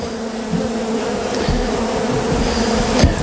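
A dense, steady buzzing of many honeybees during a comb removal, close and continuous, with a faint low hum underneath.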